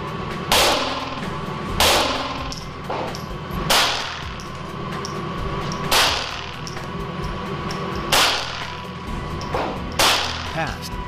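Five .22 Long Rifle full metal jacket rounds strike glass coated with a 15-mil protective window film, sounding as sharp, loud cracks spaced about two seconds apart with no talking between them.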